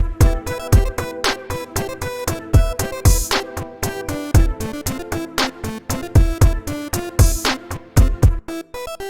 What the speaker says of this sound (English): this is kind of a Nintendo, Game Boy, Commodore 64 emulator